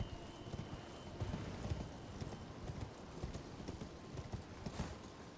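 A horse gallops in the Elden Ring video game, a quiet, rapid clip-clop of hooves pounding in steady rhythm throughout, soft and distant-sounding in the mix.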